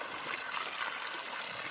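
Cold water runs from a trail water source along the Pacific Crest Trail near Seiad Valley, a steady soft trickling and splashing close by, continuous and gentle with no talk.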